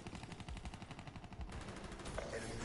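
Rapid automatic gunfire in Black Ops 3, shooting through walls: quick rhythmic bursts of shots sound moderately close and slightly muffled, followed by a short pause and more firing.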